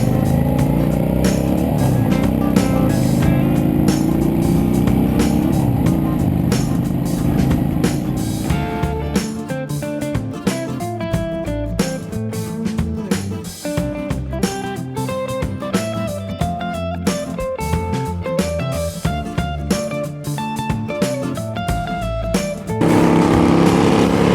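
A group of motorcycles rides west on the 101 freeway, their engines droning steadily with rising and falling revs up close, and music plays over the middle stretch.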